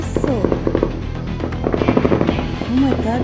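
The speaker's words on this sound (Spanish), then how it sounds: "Oh my God, parecen balazos." Rapid bursts of gunfire crackle repeatedly in the distance while people talk and shout over the shots.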